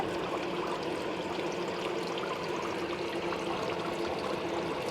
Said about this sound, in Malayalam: നല്ല രീതിക്ക് വെള്ളം ചാടുന്നുണ്ട്